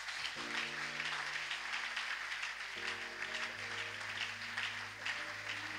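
A church congregation applauds together in a steady, dense wash of clapping that fills the space, with sustained organ or keyboard chords playing underneath throughout.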